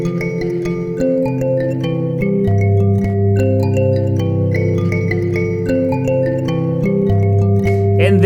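Bright plucked metal tines ring out in a steady, interlocking pattern of low and high notes, played close and clear without any voices.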